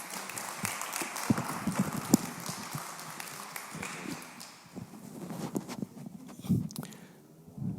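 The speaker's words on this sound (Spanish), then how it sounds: "Les va a pedir que le demos un aplauso al doctor Carlos." A conference audience gives scattered, moderate applause for a speaker, fairly faint and uneven, tapering off over several seconds.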